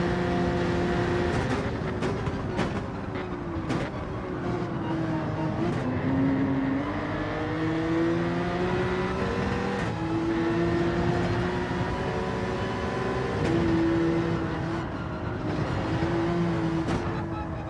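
Race cars in Gran Turismo 7 during a GT World Series round at Deep Forest, engines droning and shifting pitch steadily as cars run close and overtake, no talk over the continuous racing noise.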